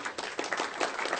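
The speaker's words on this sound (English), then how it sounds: "round of applause for Signant" Brief burst of audience applause for Signant at an eCOA technology conference session, a dense patter of many hands clapping at moderate volume with no talk over it.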